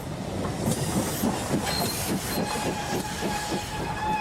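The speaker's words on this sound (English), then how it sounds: "London train." A London train rumbles steadily past with rhythmic clickety-clack from the wheels and a faint squeal, loud and continuous, with no voices.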